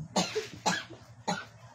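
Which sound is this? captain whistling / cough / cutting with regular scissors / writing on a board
cough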